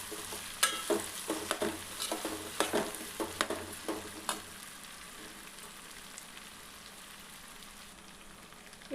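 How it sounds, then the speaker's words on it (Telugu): Potato pieces coated in turmeric are stirred in a pan, a soft sizzle under a run of scraping and clattering strokes for about four seconds, then a faint steady simmer alone. "ఇప్పుడైతే ఈ పసుపు ముక్కలకంతా పట్టేటట్టు తిప్పేసుకున్నాను."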